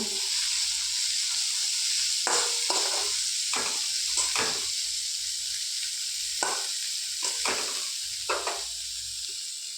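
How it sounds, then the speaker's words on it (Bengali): Steady hiss of pointed gourd and kenduri frying together in a hot pan, broken by repeated scraping stirs of a spatula every second or so. "একটু ভেজে নেব পটলগুলো।"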